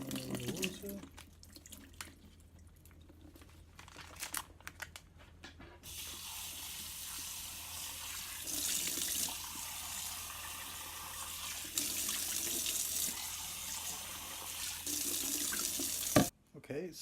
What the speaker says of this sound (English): I've rinsed it under the tap several times.